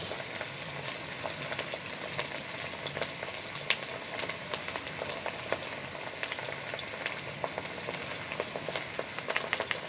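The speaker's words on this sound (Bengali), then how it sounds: "ডাঁটা দিয়ে এখন 5 মিনিট ভালো করে নেড়ে নেব, যতক্ষণ না কাঁচা গন্ধটা চলে যায় ডাঁটা থেকে" Pieces of drumstick vegetable (sojne data) sizzle and crackle steadily in hot oil in a pan as they are stirred, a continuous close frying hiss with small pops and no talk.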